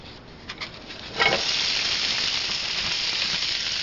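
Vegetables for a po' boy sandwich hitting olive oil in a hot pan, bursting into a loud, steady sizzle after a few small clicks, then holding a continuous close hiss to the end.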